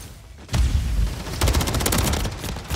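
Rapid gunfire from a shooter video game, loud, dense automatic bursts, starting after a short lull and running almost continuously.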